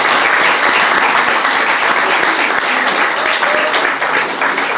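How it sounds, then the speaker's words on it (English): Crowd at a vegan fair gives dense, loud, continuous applause for a football freestyler, a steady roar of many hands clapping throughout. "Can we have a round of applause for Tom?"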